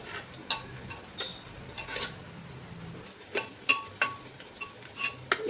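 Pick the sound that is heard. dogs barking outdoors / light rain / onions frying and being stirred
onions frying and being stirred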